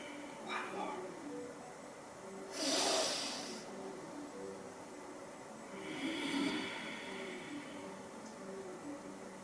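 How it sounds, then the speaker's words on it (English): Deep, slow breaths drawn in and let out during a gentle yoga class for seniors, two broad airy hiss swells standing out over a quiet room with faint background voices. "Let's try 2 or 3 inhales and exhales."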